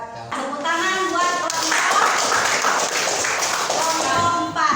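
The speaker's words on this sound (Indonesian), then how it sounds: "Tepuk tangan buat" Classroom clapping for a student group at a junior high school, a dense burst of many hands lasting several seconds at steady loudness, with voices mixed in.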